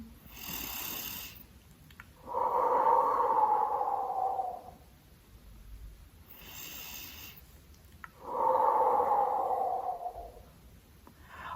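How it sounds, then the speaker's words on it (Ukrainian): Slow calming breath cycles during a relaxation exercise: a short inhale through the nose followed by a long, audible exhale through the mouth, repeated twice, close and fairly quiet, with no talk. "ми вдихаємо короткий вдих носиком. І довгий видих ротиком."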